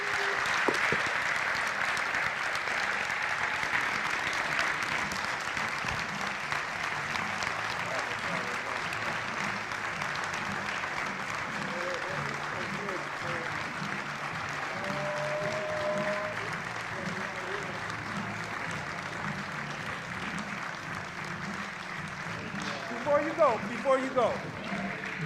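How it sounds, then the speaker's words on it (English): Sustained audience applause for Dr. Cornel West at a church evening event, a dense steady clapping that carries on for the whole stretch and thins slightly near the end, with a few whoops. "Before we go, I want to give an applause"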